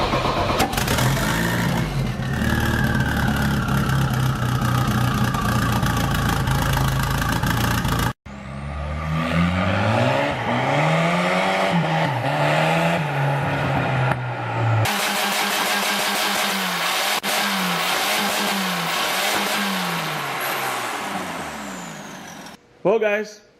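Turbocharged 1980s Volvo drift car engine running and revving, a loud mid-pitched drone rising and falling in repeated throttle blips across several cuts, with speech over parts of it.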